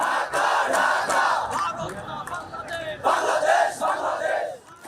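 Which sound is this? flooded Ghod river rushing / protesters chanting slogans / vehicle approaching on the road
protesters chanting slogans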